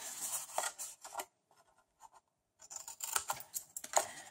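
Scissors cut small paper tabs for a handmade box, with bursts of close crisp snipping and rustling, a short quiet pause, then more cutting.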